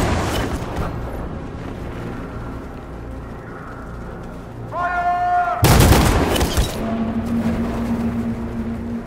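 Gunfire in Detroit: Become Human comes as a sudden loud, sharp burst of shots about midway, set against a tense rumbling background with a rising tone, then settles into a low ongoing din.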